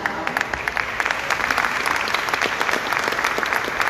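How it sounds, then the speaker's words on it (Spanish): A room full of people at a round-table talk in Tuxtla Gutiérrez, Mexico, applauds steadily, the dense clapping holding at an even level throughout with no voices over it. "Muchas gracias al maestro José Luis Castro Aguilar por un aplauso."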